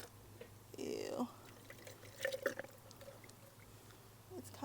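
Liquid fertilizer poured into a container in a yard, a short thick gurgling pour lasting about a second, fairly close, followed by quieter spatters and a voice speaking.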